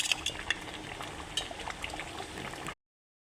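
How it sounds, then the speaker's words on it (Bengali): Beef curry cooked with chui jhal bubbles in a pressure cooker, a faint, steady simmering burble with occasional light pops and clinks, cutting off abruptly after a few seconds. "আমি প্রেশার কুকারে রান্না করছি।"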